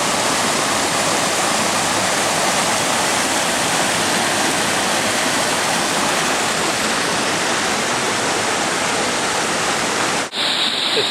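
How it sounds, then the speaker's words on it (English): Cascades Waterfall in Virginia roars as a dense, unbroken wash of falling water. It is loud and close and stays steady throughout, then cuts off abruptly just before the end. "Nice waterfall."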